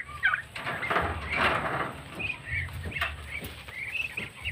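Several turkeys gobble in bursts of rapid warbling calls, some close and some farther off, over a low outdoor rumble.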